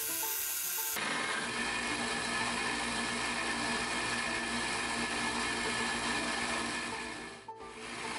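A 1x30 belt grinder grinds the bevel on an EDC knife blade freehand, a steady, loud abrasive whir running without a break for about seven seconds before it dips briefly near the end.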